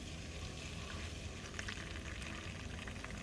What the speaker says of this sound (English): first time ever browning butter in Rachel's baking corner.